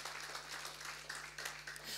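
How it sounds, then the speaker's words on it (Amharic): A church congregation claps in rhythmic, steady bursts, faint and somewhat distant over a low electrical hum. "ለጌታ ክብር ይጨበጨባል፣ እልልታ ጭብጨባ።"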